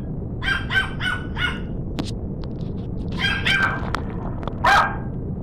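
A small, yappy dog barks in quick bursts of high, sharp yaps, close and loud, with whimpering yips between the barks.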